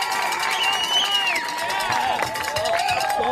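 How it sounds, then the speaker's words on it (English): A high school varsity football crowd in the stands roars and cheers at a night game, a continuous broad din with whistles and shouted voices rising over it. "As you can hear that crowd roar."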